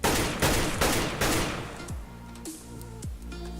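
Gunfire shooting through a wooden plank in CS:GO, several sharp rapid shots in quick bursts, loud and close, followed by fainter game clatter and whooshing effects.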